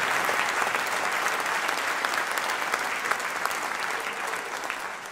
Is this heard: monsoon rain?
no